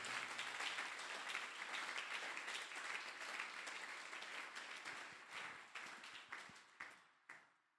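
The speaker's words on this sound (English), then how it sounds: "Clap your hands for yourself." An audience at an event claps their hands in a quiet, dense wash that gradually thins into sparse individual claps, each one distinct as the clapping dies away.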